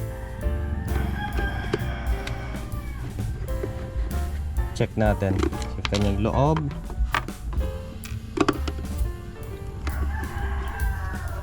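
A rooster crows loudly nearby, its rising call standing out mid-clip, while someone talks steadily over hens clucking in the background.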